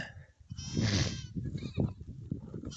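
Purebred Nigerian dwarf goats, a miniature breed, give a soft bleat or two at a fair distance amid quiet barnyard rustling.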